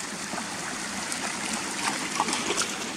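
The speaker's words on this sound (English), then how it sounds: "the stream runs all the way down here, look, from the waterfalls up there" A stream runs down from waterfalls through reeds toward a pipe under a track in the Yorkshire Dales, giving a steady, close broadband rush and trickle of water that holds evenly throughout with no voices.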